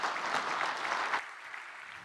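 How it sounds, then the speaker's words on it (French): Applause from the audience at a French cooperative builders' federation congress: a short burst of clapping from a crowd in a hall, fairly soft and brief, tapering off after about a second. "Je voudrais qu'on applaudisse François"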